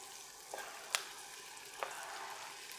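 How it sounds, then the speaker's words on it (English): Onions, tomatoes and serrano peppers frying in a pan for a chicken jalfrezi, a soft steady sizzle with a few faint clicks and stirring ticks, no voices. "we're going to let all that cook down a bit and get those onions tender"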